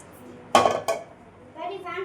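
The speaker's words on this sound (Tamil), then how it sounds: "ஸ்டவ் ஆன் பண்ணி பாத்திரம் வச்சுக்கலாம்." A metal cooking pot clanks onto a stovetop burner, two quick clattering knocks close by, followed by faint kitchen rustling while cooking drumstick leaves poriyal.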